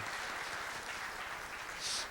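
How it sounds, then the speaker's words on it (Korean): An audience at a CEO forum with a government minister gives a round of applause, soft continuous clapping heard at a distance and fairly faint throughout. "여러분 저하고 똑같은 생각이면 박수 한번 부탁드립니다"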